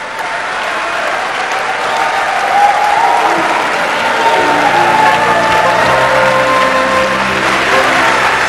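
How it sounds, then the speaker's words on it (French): Sustained audience applause from a large crowd at the opening of a tropical forest basins summit, steady and full for the whole stretch, with faint cheering and a hint of talk underneath. "Sous vos applaudissements,"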